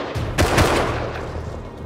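Enemy gunfire from an L9, an AK and a bolt-action rifle in the survival game Rust, a short cluster of sharp, loud reports in quick succession that rings out briefly afterward.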